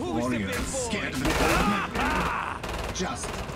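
Gunfire in the video game Killing Floor 2 comes as rapid automatic bursts and repeated shots over dense game noise, loud and close, with a voice talking through much of the action.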